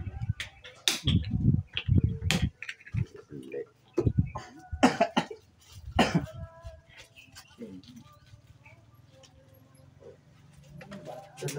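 A man coughs repeatedly in several harsh, bursty fits with throat clearing between them, close by during a traditional draughts game, with people talking around him.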